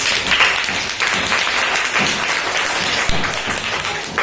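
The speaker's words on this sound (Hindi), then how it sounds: "इस बच्चे के लिए जोरदार ताली हो जाती है" A class of schoolchildren claps loudly for a fellow student, a steady burst of many small hands applauding close by in a classroom, with a few voices mixed in.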